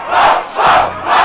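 Loud, close crowd noise at a Brazilian rap battle pulses in three rhythmic chant-like surges, an audience hyping the rappers with no one speaking over it.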